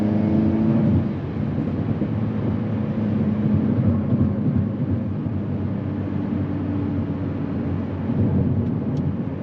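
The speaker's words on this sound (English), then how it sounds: "Slightly different pops and bangs on the exhaust as well." An Alpine A110R on a drive along open roads, with a steady engine and exhaust drone and broad road rumble. The exhaust crackles only faintly under the continuous cabin noise, and no one speaks.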